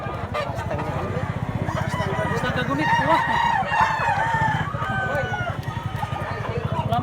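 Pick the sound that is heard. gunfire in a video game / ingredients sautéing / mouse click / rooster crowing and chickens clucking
rooster crowing and chickens clucking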